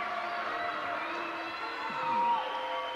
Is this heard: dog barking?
no